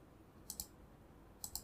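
Two quick double clicks of a computer mouse button, crisp and close, spaced about a second apart against a quiet background.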